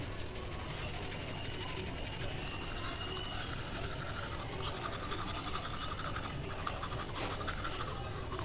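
A soft orthodontic toothbrush scrubs teeth fitted with braces, a close, steady rapid scratching that continues without pause for several seconds, with no talking.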